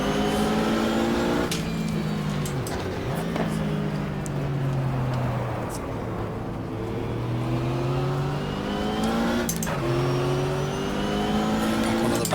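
Race cars lapping Daytona in the GTR2 racing game, 1995 24-hour event, with a sustained loud engine roar that shifts pitch through gear changes and revs, plus brief sharp transients and other cars nearby.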